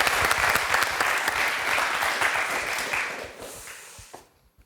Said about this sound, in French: Alors là, attends, là j'applaudis.